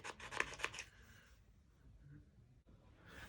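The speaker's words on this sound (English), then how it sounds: "Get yourself a credit card. Scrape this off. Take off your excess thermal compound." A credit card scrapes thermal compound off a Dell Latitude D630 laptop heatsink in a few quick close rasping strokes, then fades into quiet handling noise.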